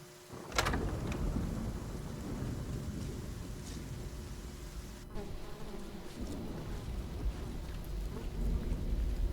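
Steady rain in the video game Pillars of the Earth, a dense continuous hiss with low rumbling underneath, staying moderately loud throughout with no speech.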